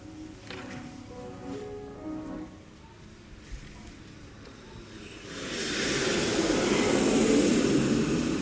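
A spacecraft landing effect from a science-fiction film, a broad roaring rumble that swells in from about five seconds and holds loud and steady to the end, after quieter tonal music-like sound at the start.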